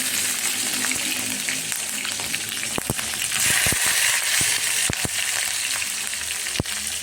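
Green chillies and mustard seeds sizzle steadily in hot oil in a pan, a continuous frying hiss broken by sharp pops and a few clicks of stirring, heard up close with no talking.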